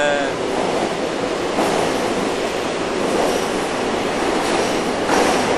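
Subway train running steadily underground, a loud continuous rumble and rushing roar with faint rail clatter filling the whole stretch, no voices.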